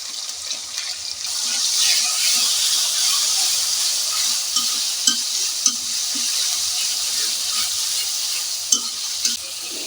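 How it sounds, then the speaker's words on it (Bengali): Onion, cumin, green chili and dried chili pastes fry in a pan with a constant close sizzle, broken by soft scrapes and stirring knocks. "এরপর আমি দিয়ে দিচ্ছি পেঁয়াজ বাটা জিরা বাটা কাঁচামরিচ বাটা শুকনো মরিচ বাটা"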